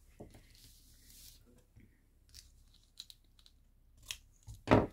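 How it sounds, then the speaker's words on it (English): Scissors cutting paper for an heirloom scrapbook layout, a few soft snips and crinkles that build to one closer, louder cut at the end, with quiet handling noise between. "And then we can just cut this off here."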